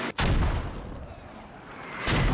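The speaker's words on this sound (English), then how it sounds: "US mortars are landing" Mortar shells landing in the military shooter Squad, two heavy booming impacts at the start and end with a low rumbling tail between them, loud and close.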